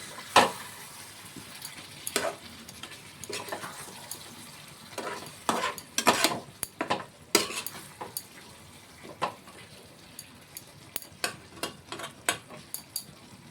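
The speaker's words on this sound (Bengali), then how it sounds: "চিকেনটা আমরা আরও 1 থেকে 2 মিনিটের মতন কষিয়ে নেব।" Bihari-style chicken curry sautéed in oil in a pan, with a spoon scraping and clinking in irregular strokes over a soft sizzle. Close and loud, with no talking.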